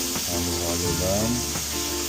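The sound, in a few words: stirring food sizzling in a pan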